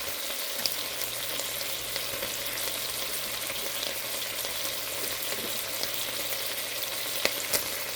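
Carrots, garlic and sausage meat sizzling and frying in a pot for a tomato kale soup, a steady close crackle with occasional soft pops.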